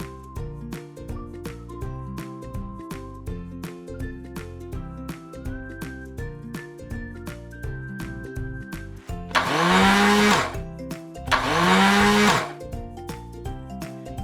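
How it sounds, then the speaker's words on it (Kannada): A mixer grinder coarsely grinds soaked, drained chana dal for Mangalore-style chattambade in two short, loud whirring bursts over steady background music. "ನೆನೆಸಿಟ್ಟ ಕಡಲೆಬೇಳೆಯನ್ನು ಸೋಸಿ ಮಿಕ್ಸಿ ಜಾರ್ನಲ್ಲಿ"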